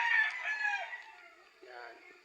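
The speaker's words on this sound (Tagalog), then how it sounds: "Ito rin nanalo natin yung manok." A rooster crows at a cockfighting farm, one long drawn-out call that is fairly faint and trails off into a weaker second phrase.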